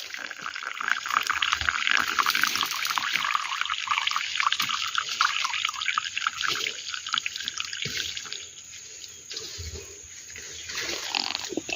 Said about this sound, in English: And you can get water from here.